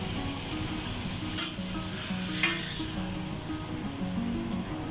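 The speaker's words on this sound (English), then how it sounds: "now I am ready to sizzling because this is sizzling chicken fajita" Chicken fajitas sizzle loudly and steadily on a hot sizzling plate, a dense continuous hiss with a couple of faint metallic clinks of utensils.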